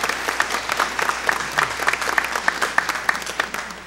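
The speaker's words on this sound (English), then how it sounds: "Let's give a round of applause for the graduating class of 2016." Applause for the graduating class of 2016 at a commencement, many hands clapping in a crisp, uneven rhythm with distinct individual claps standing out from a busy crowd.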